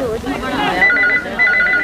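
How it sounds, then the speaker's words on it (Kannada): A telephone rings with a bright repeating electronic trill in a domestic scene, heard under and after overlapping speech and music. "ನಿನ್ನ ಫೋನ್ ಬಂದಿದೆ ಕಣ"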